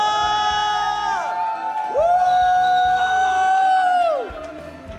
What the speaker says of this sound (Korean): 함성!